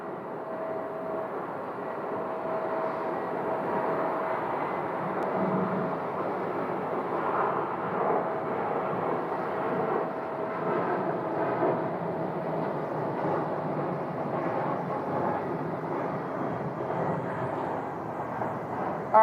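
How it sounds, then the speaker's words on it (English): An Atlas Air Boeing 747 taxis at Phoenix airport, its engines giving a steady, distant broadband roar and whine that holds evenly throughout with no speech. "you can see the Atlas 747 is moving to the other taxiway as they continue to make their way down"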